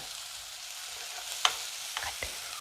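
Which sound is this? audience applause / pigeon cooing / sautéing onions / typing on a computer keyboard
sautéing onions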